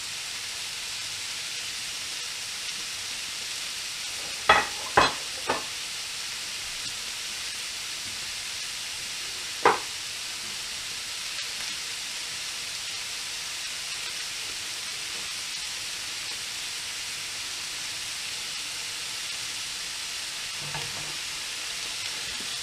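Minced meat for shepherd's pie browns in a pan with a soft, even hiss that runs throughout, punctuated by a few sharp utensil clacks early on.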